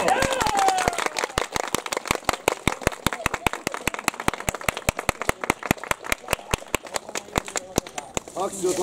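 Sharp, rhythmic clapping from a crowd continues steadily, loud and close, with a brief voice at the start.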